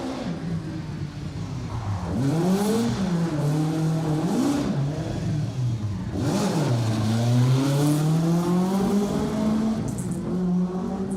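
A Ford Escort RS 1800 rally car on an asphalt rally stage approaches and passes. Its loud engine rises and falls through several revving gear changes, and the note sweeps down as it goes by.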